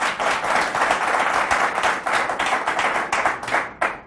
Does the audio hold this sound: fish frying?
no